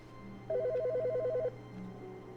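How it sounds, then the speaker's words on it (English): In the video game The Stanley Parable Ultra Deluxe, a telephone gives one clear electronic trilling ring lasting about a second over a quiet low hum, with faint tones before and after. "Did I hear a phone?"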